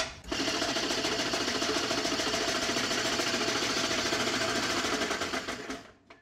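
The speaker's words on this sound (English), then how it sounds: "we're going to turn on the machine with the stones fully disengaged" A Molinito stone grain grinder runs with its stones fully disengaged, giving a steady, loud mechanical whir and hum with a rapid buzzing flutter that holds evenly for about six seconds before winding down at the end.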